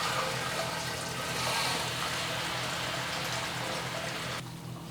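Liquid drains from a heavy all-grain mash vessel full of water during pale ale brewing, a steady, close rushing and trickling wash that runs on without a break and thins slightly near the end.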